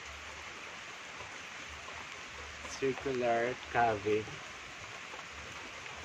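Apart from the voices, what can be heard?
rain falling near a cave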